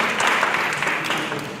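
A congregation claps at a synagogue High Holidays gathering, a full, steady round of applause from many hands at a fairly close distance.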